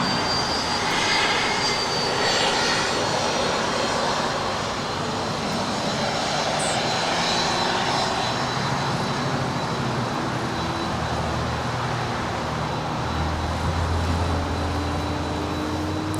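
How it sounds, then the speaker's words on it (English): A Delta Airlines Boeing 767-300ER arriving from JFK roars in to land at LAX, a loud, continuous jet engine rumble that holds steady for the whole stretch, broad and close with a faint high whine above it. "we just said Delta Airlines Flight 351 coming in from JFK. It's a 767-300ER."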